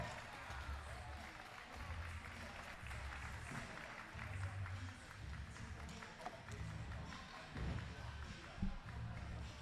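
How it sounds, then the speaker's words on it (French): An audience at a U14 scooter final claps for a rider after a backflip, soft scattered applause in a large space with talk mixed in. "Applaudissements pour Gaëtan"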